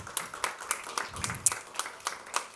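Faint, thin applause from an audience at an EU Industry Days 2022 session in Belgium, heard as a short run of evenly spaced, separate claps.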